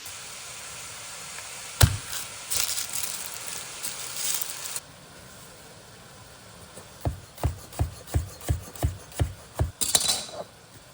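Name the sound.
knife cutting garlic while stirring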